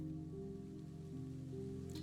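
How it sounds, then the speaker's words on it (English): Rain falls steadily and faintly in Zenless Zone Zero, a soft continuous patter under a low, sustained musical tone. "And it's raining. Of course it's raining."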